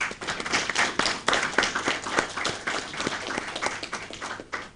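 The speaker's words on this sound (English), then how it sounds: "A round of applause" A council meeting audience claps for a presenter, a brisk room-sized round of applause with distinct individual claps close by, fairly even through to the end.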